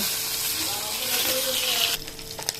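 Koi fish frying in hot oil in a home kitchen, a loud steady sizzle that continues, then cuts back to a softer crackle near the end as the pan is handled.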